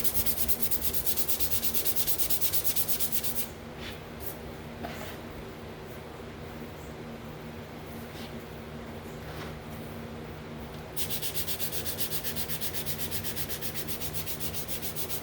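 Steady hand sanding of a car fender with 500 grit sandpaper, a continuous close scratchy rubbing that eases for several seconds mid-stretch before resuming at full strength.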